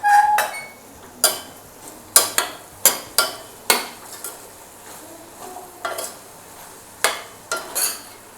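Brinjal thokku stirred in a pan, a series of sharp metal spatula clacks and scrapes against the pan at an uneven rhythm over a faint sizzle, close and fairly loud.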